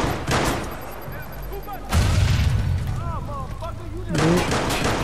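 Explosions and blasts in the PS4 game Watch Dogs: three loud, rough bursts spaced a couple of seconds apart, with voices talking in between.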